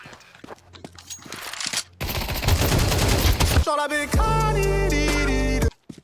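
Bursts of AK rifle fire in a Counter-Strike match, loud, dense rapid shots crackling for a few seconds, followed by a sustained tonal game sound and a short pause.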